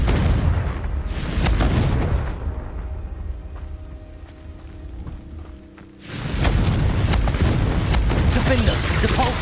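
Booming fire-spell blasts from the Hogwarts Legacy video game, loud rumbling bursts with crackling debris at the start and again near the end, separated by a quieter stretch, with a voice shouting spells over them.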